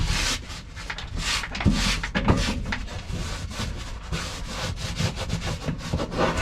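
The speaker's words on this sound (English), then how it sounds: "I just put a little bit of alcohol, denatured alcohol, on the towel here. Clean out the dirt and junk out of there." A towel dampened with denatured alcohol is rubbed briskly back and forth to wipe dirt and grit out from under the belly of a boat during a transponder installation, producing close, rhythmic scrubbing strokes with no talking.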